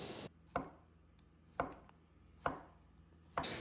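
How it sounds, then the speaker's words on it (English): Knife chopping through zucchini into quarter-inch rounds on a cutting board, four sharp close thuds spaced about a second apart with quiet between. "I'm going to cut this zucchini into 1/4 inch rounds."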